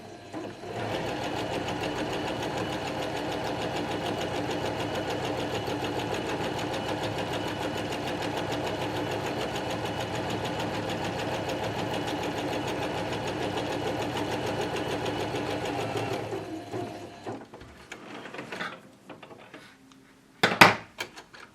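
A sewing machine stitches guide seams along a hem in a fast, continuous mechanical whir for about sixteen seconds, then stops and leaves a few light handling clicks and knocks.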